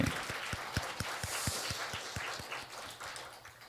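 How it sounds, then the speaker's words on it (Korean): Faint clapping from a church congregation at a Sunday morning service in Daegu, with steady rhythmic claps repeating at a quick even pace against a soft hiss, distant and low in level throughout. "한 해 동안 지켜주시고 함께하신 하나님께 우리 영광과 감사의 박수를 하나님께"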